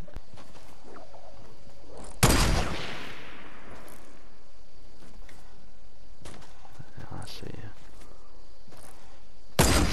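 A loud, sharp gunshot in the video game Fortnite cracks out with a long decaying echo, followed by quieter game noises and a second shot at the end.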